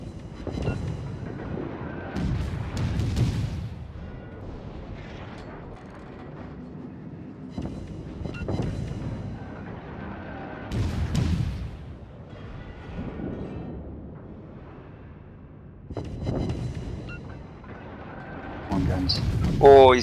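Naval gun salvos in World of Warships boom out as repeated low, heavy blasts every few seconds, with excited voices talking over the combat.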